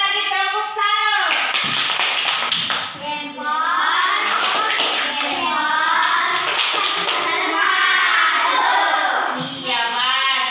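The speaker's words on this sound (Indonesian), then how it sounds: "Boleh lagi tepuk salut." Schoolchildren in a classroom performing a tepuk salut clapping routine, chanting in unison with rhythmic taps and claps mixed into their voices, loud and close throughout.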